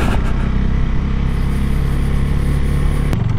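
A motorcycle engine drones steadily and loudly while riding over rocky, marble-like terrain in Iceland, with constant wind and rumble and no pauses.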